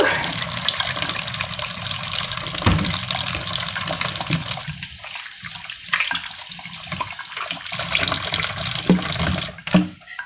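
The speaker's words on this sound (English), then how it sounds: "let me wash my hands" Running water pours steadily from a tap while hands are washed, a continuous hissing splash with brief shifts in flow and a few small clatters near the end.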